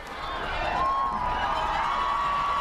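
Loud, steady crowd roar fills a cold night at a high school football playoff game between Assumption and Pleasant Valley, rising slightly and holding as a continuous wash of distant voices with no clear single speaker.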